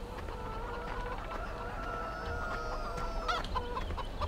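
Chickens clucking in the video game Farming Simulator 17: several short clucks and squawks over a low background hum, with a louder cackling burst near the end, moderately close.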